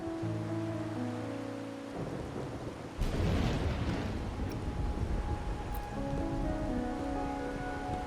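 Rain falls steadily and a deep thunderclap rolls in midway within the stormy setting of the Wuthering Waves video game, sounding over a soft melodic game score. The rumble swells loudly, then fades back to rain. No one speaks.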